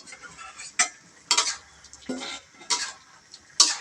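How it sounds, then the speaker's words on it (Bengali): Metal pot lid lifted and set down in a home kitchen while vegetables cook, a series of sharp clanks and scrapes spaced about half a second apart, with faint sizzling between. "এবার আমি ঢাকনাটা নামিয়ে নিচ্ছি"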